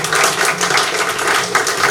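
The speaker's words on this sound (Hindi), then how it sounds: "बजाओ ताली" Students in a live classroom clap together in a steady, continuous burst of applause, dense and fairly loud from start to finish, with no voices standing out above it.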